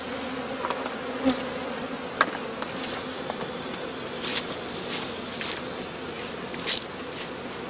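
Honey bees buzz steadily around straw skeps on a northern German heathland, with a continuous faint insect drone, occasional louder passes of individual bees near the listener, and a few soft rustles.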